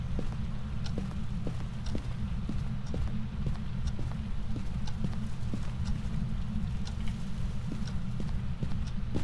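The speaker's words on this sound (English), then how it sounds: "That's where I'm hearing all the footsteps." Ghost footsteps in the horror video game Phasmophobia thud in a steady, repeated rhythm of even, moderately loud steps against a constant low background rumble.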